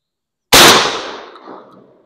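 A single loud, close 12 gauge shotgun blast from a Federal Top Gun paper-wad shell loaded with buckshot, a sharp crack after silence that trails off in a decaying echo.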